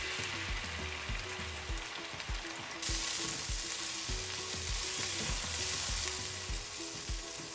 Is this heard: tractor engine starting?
no